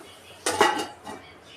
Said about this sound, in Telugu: సో మూత పెట్టేసుకున్నాను